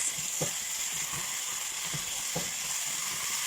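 Garlic, bay leaves, whole peppercorns and onion sauté in a hot pan with a steady, close sizzle, broken by a few soft stirring scrapes.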